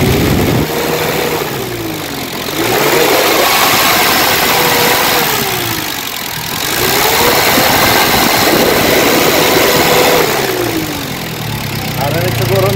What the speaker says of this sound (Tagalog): maandar yung makina natin